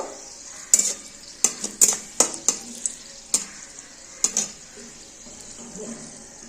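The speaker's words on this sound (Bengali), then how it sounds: "দারচিনি লবঙ্গ এলাচ আর সঙ্গে দু একটা গোলমরিচের গুঁড়ো এই গোলমরিচ মানে গোটা গোলমরিচ একটু ফোড়নটা হালকা করে ভেজে নেব" Whole cinnamon, cloves, cardamom and peppercorns frying in oil for a Bengali tempering, with a steady soft sizzle and repeated sharp scraping clinks of a spoon stirring the pan, close and fairly quiet.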